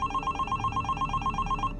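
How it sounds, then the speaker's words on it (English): A telephone bell rings steadily in rapid repeated pulses, a clear electronic trill with no voices, stopping abruptly near the end. "Only minutes later, they received a disturbing phone call."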